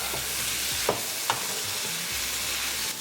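Chinese gourd (ridge gourd) pieces being stirred and mixed into a hot tadka in a pan, a steady sizzle and frying crackle with a couple of sharp scrape-like spatula knocks, close and continuous, no voices.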